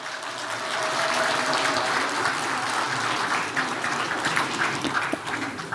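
An audience at a Korean award ceremony applauds and cheers loudly in a dense, continuous wash of clapping that holds steady throughout without a break.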